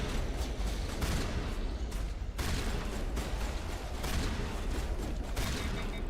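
Shotgun blasts in a video game, rendered as loud, dense bursts of gunfire that overlap one another and fill the whole stretch with no quiet gaps between them.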